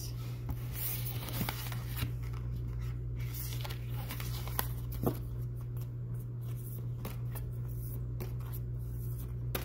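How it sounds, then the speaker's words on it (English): Soft papery riffling and rubbing of a new deck of oracle cards being shuffled, quiet and close, over a low steady hum. "Let's see if I can get it to shuffle."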